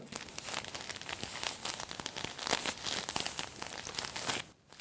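A bag of salt or flour crumpled by hand to mimic a campfire, giving dense crackling, crinkling pops in an irregular stream that stops abruptly near the end, close and moderately loud.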